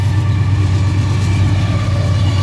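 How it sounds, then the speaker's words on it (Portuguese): A loaded iron ore freight train rumbles past at close range, a steady heavy low roar of wagons with no talking. "Mais um trem de minério."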